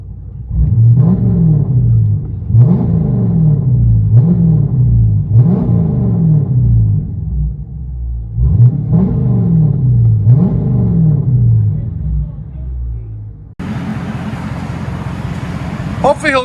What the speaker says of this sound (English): Dodge Charger 2015 HEMI.